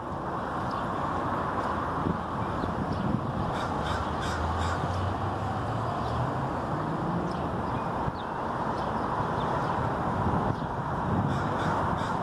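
Several crows caw in short, repeated bursts over a steady outdoor rush of wind, the calls fairly close and spaced irregularly, with no talking.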